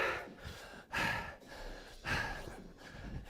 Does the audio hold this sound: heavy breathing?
yes